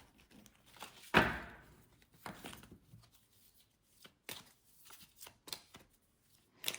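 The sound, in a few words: cards being covered on a table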